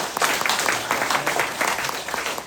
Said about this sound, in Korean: 박수 한번 쳐야 되겠죠?